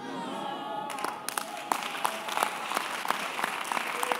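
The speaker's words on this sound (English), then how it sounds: "Give the Lord a clap of when I'm preaching." A church congregation clapping during a preacher's sermon, a brisk burst of many hands applauding at moderate distance that settles into steady clapping.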